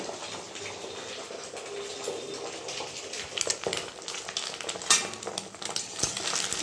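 Beaten egg scrambles in hot oil in a pan for egg bhujia, giving a steady close sizzle mixed with the scrape and clink of a utensil stirring, and no talking.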